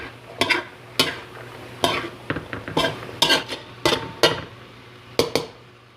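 A spoon stirs peas, carrots and ground beef empanada filling in a pan, with repeated close scraping and clinking strokes over a soft sizzle.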